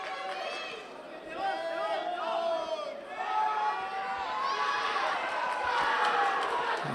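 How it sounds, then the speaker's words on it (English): Home crowd at the European Judo Championships Juniors in Prague cheering and shouting in waves, rising and falling around the arena, loud and continuous. "You can hear the cheers from the crowd, who are demanding an ippon"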